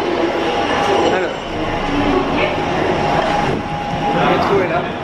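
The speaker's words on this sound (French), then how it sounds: "Le métro est là, j'y vais." A Paris metro train rolling into a station with a loud, continuous rumble, rising and fading wheel squeal and rail clatter, filling the whole span with no voices over it.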